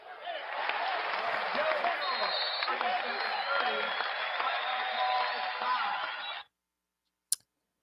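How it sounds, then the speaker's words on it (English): Hand clapping applause filling about six seconds, dense and even from many hands, then cutting off abruptly to silence before a single sharp click. "Let's give a hand clap for Chicago."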